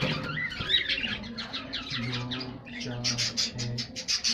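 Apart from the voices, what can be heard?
pet budgerigars chirping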